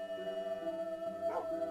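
Dogs in the video game Minecraft give a short whining howl over steady tonal game sounds, brief and fairly quiet, with no talking.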